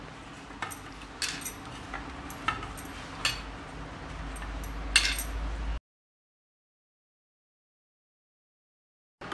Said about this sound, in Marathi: आता हे सर्व आपण एकजीव करून घेऊ।